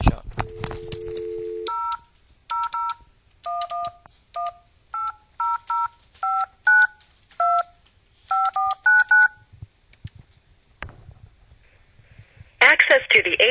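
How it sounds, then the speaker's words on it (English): Telephone dial-out tones calling a 1-800 number: a short dial tone, then a rapid series of about a dozen distinct keypad beeps in uneven groups, followed by quiet line noise and a burst of static at the end. "So you'll hear some strange dial-out numbers."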